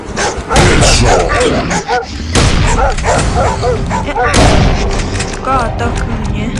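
Dog barks and yips ring out in a zombie shooter video game, loud and repeated over booming game effects, while a player talks over the action.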